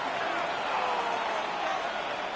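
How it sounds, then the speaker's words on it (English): A stadium crowd roars steadily at an NFL game between the 49ers and the Vikings, a dense, continuous wash of cheering that carries on without a break for the whole stretch. "This crowd doing all they can."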